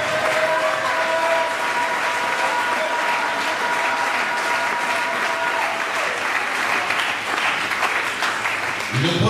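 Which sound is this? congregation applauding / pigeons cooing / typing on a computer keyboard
congregation applauding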